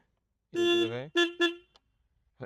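A Royal Enfield motorcycle horn honks three times, one longer blast followed by two quick short toots, loud and close in a quiet setting.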